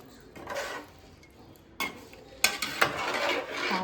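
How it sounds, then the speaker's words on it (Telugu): A spoon stirs a pot of fish curry (chepala pulusu) with okra pieces. The scraping is soft and intermittent, with a few sharper metal clinks near the end and no talk. "ఇలా కలుపుకోవాలి."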